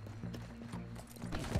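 Horse hooves clip-clopping with a brief whinny in the Red Dead Redemption II online video game, a short, fairly quiet burst of hoofbeats over soft game ambience.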